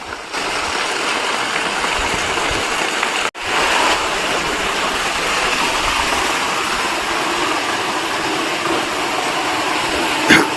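Water rushes at the source of the Brahmi river with a constant, loud broadband roar, much like a stream or small waterfall, briefly interrupted by a sharp dropout midway.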